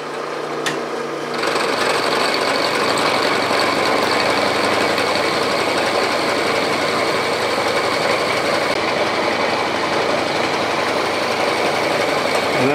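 Bridgeport milling machine on power feed taking a fifty-thousandths cut in steel, a steady loud grinding whir with dense metallic chatter that holds unbroken and close throughout, with no talking.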